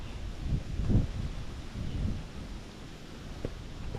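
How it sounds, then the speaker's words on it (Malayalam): Strong wind blowing under a tree in a desert forest in Bahrain, heard as a close, steady low roar with heavy gusts buffeting the microphone, loudest near the start and easing off, with no one talking. "ഇവിടുത്തെ കാറ്റ് ഞാൻ കാണിച്ചു തരാം കണ്ടത് ഇതേപോലെ നല്ല കാറ്റാണ് ഇവിടെ"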